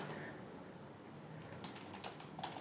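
Quick bursts of computer keyboard typing, a cluster of light clicking keystrokes near the end, faint and close, entering SQL Plus commands in Oracle XE.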